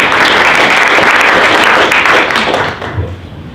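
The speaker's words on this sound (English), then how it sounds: "let's give a big round of applause for Dave." A roomful of people at a sales meeting claps loudly for a guest giving a legal update, dense steady applause that tapers off near the end.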